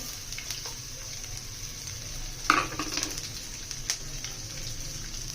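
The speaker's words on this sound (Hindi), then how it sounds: "प्याज को सिर्फ हमने सौते करना है" Onions sautéing in a small amount of oil in a frying pan, a low steady sizzle with a couple of brief scraping stirs, close and quiet, no talking.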